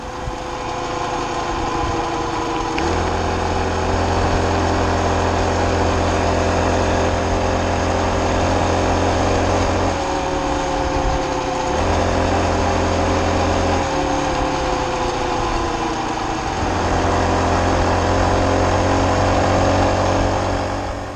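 A BBR 38cc four-stroke friction-drive engine mounted on a 20-inch bicycle frame runs steadily up close, a droning buzz whose pitch rises and falls several times as the throttle changes, with no talking.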